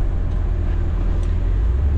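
A GMC Vandura van drives along, its engine a steady low rumble with road and tire noise holding constant and close throughout.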